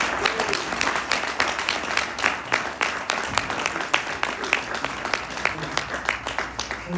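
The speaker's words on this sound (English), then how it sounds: "Let's give them a big round of applause." Audience applause at a Fort Lauderdale District 4 city commission candidate forum, a steady wash of many hands clapping for the full seven seconds, with some voices mixed into the crowd.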